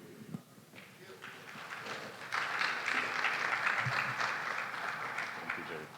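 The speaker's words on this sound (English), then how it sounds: "A round of applause for him" Audience applause at a Ghana CEOs Summit after a paper presentation, a steady broad wash of clapping from a seated crowd that swells after a quieter start and holds moderately loud.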